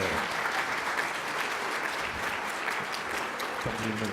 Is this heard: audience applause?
yes